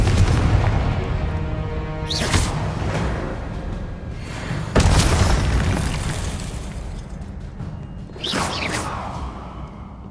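Confringo blasting spell explosions in the Hogwarts Legacy video game, three heavy booming blasts with whooshing tails spaced a few seconds apart over a rumbling battle bed, loud and close, with no speech.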